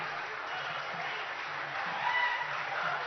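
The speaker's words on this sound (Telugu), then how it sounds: "మీరు గట్టిగా చప్పట్లు కొడితే ఈ పండుగ మరింత ఆనందమయంగా ఉంటుంది" An audience applauds at a foundation stone ceremony for Future City in Telangana, a steady, moderately loud wash of clapping from a crowd that swells slightly near the end.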